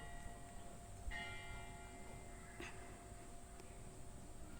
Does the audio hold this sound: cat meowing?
no